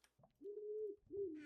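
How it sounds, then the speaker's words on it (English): Birds in modded Minecraft survival gameplay give two clear cooing calls, a longer one and then a shorter one, close and fairly soft, with no talk. "those fucking birds are so annoying, dude"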